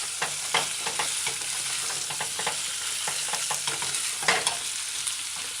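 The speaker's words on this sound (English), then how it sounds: "And then stir in, stir in. Stir fry, stir fry." Cubed zucchini stir-fried in a pan, soft steady sizzling broken by repeated scraping stirs of a utensil, close and moderately loud with no talk.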